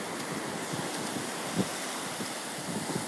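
Ocean waves wash steadily on the shore at Flagler Beach, Florida, a continuous broadband rush mixed with wind noise on the microphone, with a few soft thumps and no talk.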